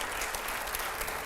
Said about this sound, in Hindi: चलिए अब तालियों की आवाज थोड़ी कम आ रही है हमें।